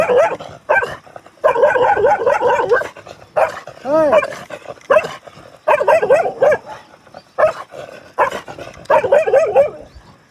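Several dogs bark and yip loudly in repeated bursts close by, with some whimpering, and a person speaks between and over the barking.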